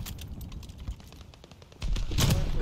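Gunfire in Call of Duty: Vanguard: a run of quick, sharp shots crackling over background game noise, swelling into a louder, denser burst near the end.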